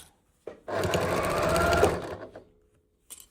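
A sewing machine runs in one fast burst of about two seconds, stitching close to a fold through cotton and toweling fabric with a short back stitch; a brief faint noise follows after a pause.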